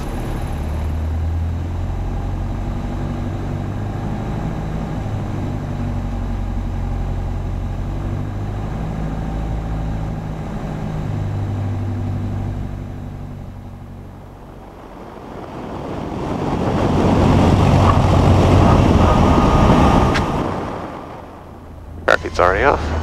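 Light airplane engine in the landing pattern, droning steadily under cabin noise, then swelling louder as power is added around the midpoint before easing off, with a few sharp clicks near the end.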